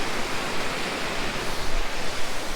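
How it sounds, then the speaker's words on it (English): Water pours down a waterfall in a continuous, close, roaring rush of broadband noise that stays steady and dense throughout, with no voices. "this is where the water flows all the way down there, and it just carries on going down"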